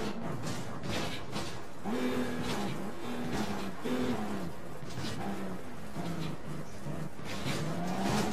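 A car driving in the game APB Reloaded, its engine drone rising and falling steadily through repeated gear changes, loud and continuous with no talk over it.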